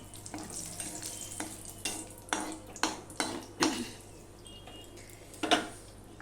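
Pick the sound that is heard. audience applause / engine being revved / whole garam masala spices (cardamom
whole garam masala spices (cardamom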